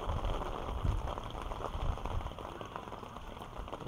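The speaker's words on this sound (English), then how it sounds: "Holmes Field starting to look more like a slip and slide every minute with all this rain that's coming down" Heavy rain pours down on a baseball field during a minor league game, a dense and constant hiss of drops hitting the surface, loud and close with no voices.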